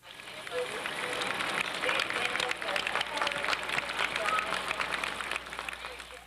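A large crowd cheers and applauds as the Navy frigate Perry noses into a ship canal after a bridge opens, a dense, steady wash of clapping and voices that stays loud from start to finish.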